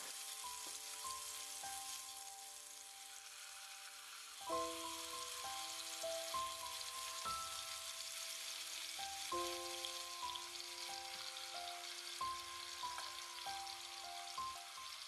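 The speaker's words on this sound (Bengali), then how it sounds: "তেল গরম হওয়ার পর দিয়ে দিচ্ছি ম্যারিনেট করা চিকেন।" Marinated chicken fries in hot oil in a pan with a steady soft sizzle, close but quiet, while sustained tonal music plays over it throughout and nobody talks.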